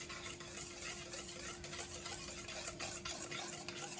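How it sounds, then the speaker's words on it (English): Dalgona whipped coffee is whisked by hand, a rapid rhythmic clicking and swishing of the whisk against the bowl that carries on steadily, close but quiet, with a faint background hum. "You whisk and whisk and whisk until you get the texture that you want."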